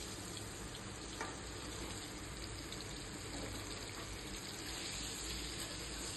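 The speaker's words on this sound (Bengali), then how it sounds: "এরপর আমি প্যানে একটু ভালো করে" Pointed gourds (potol) frying in oil in a pan for patal pasanda, a steady close sizzle with light stirring clicks and a faint watery crackle throughout.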